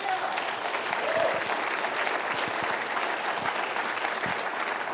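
Audience applause at a talk, a steady wash of clapping throughout at even level, with no one speaking over it.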